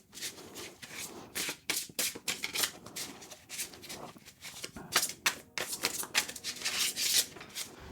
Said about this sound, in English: It's very rare straight out of the box that you can get such a good shuffle going.